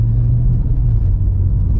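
A BMW with a DCT transmission swap and a single mass flywheel drives steadily, giving a loud, constant low engine rumble and road drone with no talking.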